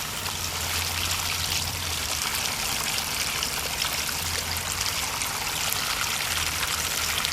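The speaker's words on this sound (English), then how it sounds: "We're going to let that process for a few minutes and let everything wash through" Steady flow of water rushing and trickling as material washes through a Gold Cube gold concentrator, a continuous close wash with no talk.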